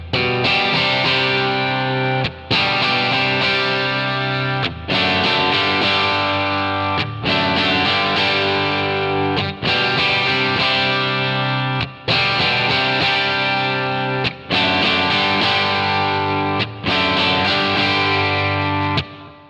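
Electric guitar played through a Line 6 Helix patch with an AC30-style amp drive, sustained distorted chords with chorus-like effects, strummed in steady repeating phrases with brief gaps roughly every two and a half seconds, loud and alone.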